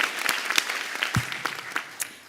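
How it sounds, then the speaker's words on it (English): Audience applause at a Doctor of Pharmacy white coat ceremony for the class of 2028, a thin, scattered round of clapping with distinct individual claps popping out, fairly faint and distant, brief and without talk. "Let's give them another round of applause."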